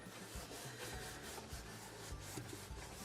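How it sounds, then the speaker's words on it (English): Rubber stamp rubbed firmly onto the smooth side of watercolor paper, a steady close scraping and rubbing with repeated strokes, no talking. "So I'm just burnishing the stamp into the smoother side."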